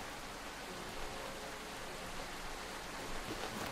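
Steady heavy rain in the Werewolves in Heavy Rain video game, a dense, even hiss that continues without pause throughout, with no talking over it.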